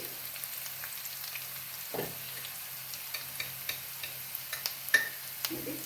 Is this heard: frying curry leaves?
yes